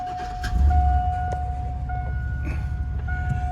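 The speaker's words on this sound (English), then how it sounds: "Right now it's idling quick, nicely." A car engine idling quickly and smoothly close by, a steady low rumble with a faint constant whine riding over it and no speech.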